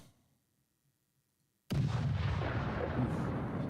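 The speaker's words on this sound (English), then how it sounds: "That's some effective artillery work there." Artillery shelling in the WWII strategy game Cauldrons of War: Stalingrad, a sudden loud boom after near silence that rolls into a dense, continuous roar of barrage fire.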